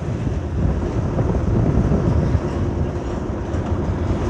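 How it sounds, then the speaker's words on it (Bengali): Two very long 24-wheel trucks pass on a road in Ishwarganj, Mymensingh, making a heavy, continuous low rumble with wind buffeting the microphone up close. "ট্রেনের মতো লম্বা দুইটা গাড়ি যে যাইতেছে"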